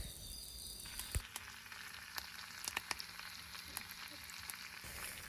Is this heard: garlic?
yes